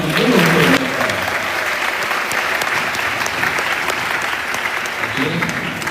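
A room full of people clapping loudly and steadily for teachers at a school event, dense applause that holds for several seconds without fading.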